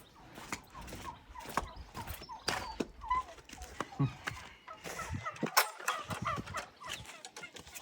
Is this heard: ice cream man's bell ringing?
no